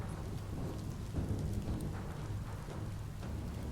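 Steady rain with rumbling thunder in the video game Biomutant, a dense continuous wash that swells slightly partway through, with no talk over it.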